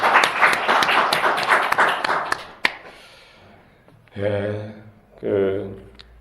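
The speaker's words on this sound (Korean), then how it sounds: "다시 한번 박수 영광 드리겠습니다" Congregation in a church Easter service applauding, a dense burst of rapid clapping that fades out after a couple of seconds, followed by someone speaking in two short phrases.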